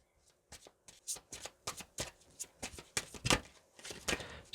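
A deck of tarot cards is shuffled up close in quick, irregular riffling bursts, each a sharp papery flutter, fairly quiet with brief pauses between them.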